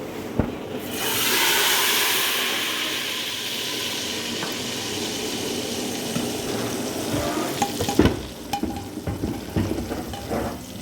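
Browned garlic tadka is poured into red lentil dal: a loud close sizzling hiss that swells and slowly settles, followed by clinking and scraping of stirring toward the end.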